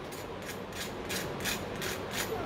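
Close-up crunching from biting into crispy fried vegetable cutlet bites, a steady dense crackle with a few brighter crunches pulsing through it, no talking.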